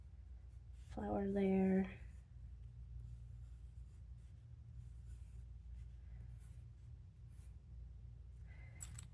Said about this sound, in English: Just drawing some little ovals.